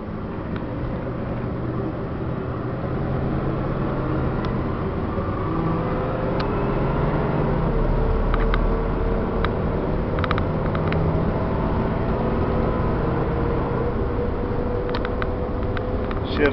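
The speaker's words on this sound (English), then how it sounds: "Has a Chevy 454 motor in it, which is one of the best motors Chevy ever made." A Fleetwood Four Winds motorhome with a Chevy 454 engine and a three-speed overdrive transmission drives along, giving a steady low engine drone and road rumble with occasional faint rattles.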